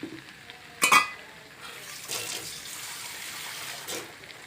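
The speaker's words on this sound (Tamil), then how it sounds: "கொஞ்சம் தண்ணி சேர்த்துக்கலாம்." Water poured into a pan of country chicken curry, a short splashy gush near the start followed by softer running and bubbling, with another small splash near the end.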